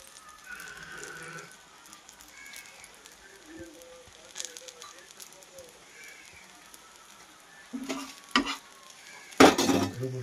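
Food fries in oil in a pan in a home kitchen, giving a soft, steady sizzle under faint background sounds, broken near the end by a few louder clatters and scrapes.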